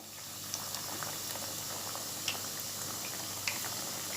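Doughnuts fry in very hot oil over a medium flame, giving a steady, close bubbling hiss with scattered small pops and crackles throughout, and no voices.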